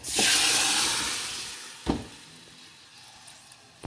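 Cooked dal poured onto hot fried chillies for Konkani-style dal curry (daali toi) sets off a loud, close sizzle that surges and then fades. One or two dull knocks of a pot or spoon follow.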